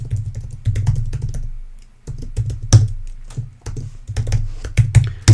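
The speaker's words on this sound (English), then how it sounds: "I'm gonna type mine." A username and password are typed on a computer keyboard in close, clattering bursts of keystrokes with brief pauses between runs.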